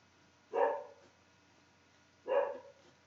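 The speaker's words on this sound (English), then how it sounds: "Sorry about the dog." A dog barks twice, about two seconds apart, each a single muffled bark from a nearby room against otherwise quiet background.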